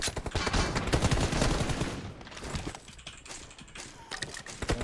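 Dense automatic gunfire rattles through a PUBG Mobile team deathmatch, rapid bursts packed together and loud at first, then thinning into scattered shots, with no voices.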